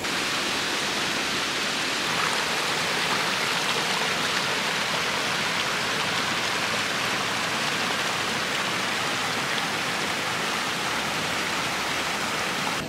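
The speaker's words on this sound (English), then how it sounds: "it led to this other waterfall thingy, a little bit smaller. Everything is really quiet, except for the water" A smaller waterfall on Mount Olympus in Greece pours in a dense, unbroken hiss of falling water, close and fairly loud, with no voices and nothing else breaking the steady rush.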